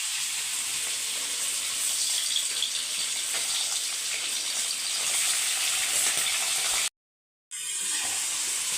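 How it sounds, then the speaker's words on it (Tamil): Steamed pieces sautéing in hot oil give a loud, dense, continuous sizzle close by. It cuts out briefly near the end and then resumes, with no voices. "இப்போ வந்து எண்ணெயில் போட்டு எண்ணெயில் போட்டு வதக்கிட்டு"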